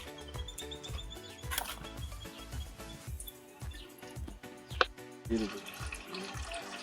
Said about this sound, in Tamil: முந்நூறு ml தேங்காய் எண்ணெய் ஊற்றிடலாம்.